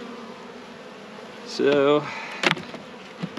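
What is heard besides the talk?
bees robbing syrup from a hive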